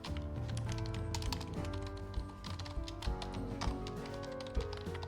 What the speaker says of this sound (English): this is what my keyboard sounds like